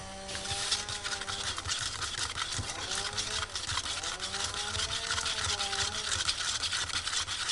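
Watery gesso mixture for molds is stirred in a container with a continuous scraping, swishing sound, close and steady throughout, over a faint background hum.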